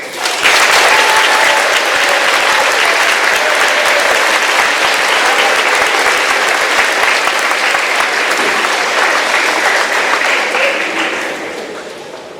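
Sustained applause from a middle school graduation ceremony crowd honoring junior scholars, a dense steady wash of clapping across the hall that fades out near the end.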